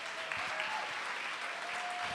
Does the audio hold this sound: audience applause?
yes